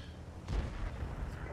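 A tank cannon fires a HEAT shell in World of Tanks; one loud, heavy boom lands partway through and rolls off into a dense rumbling wash.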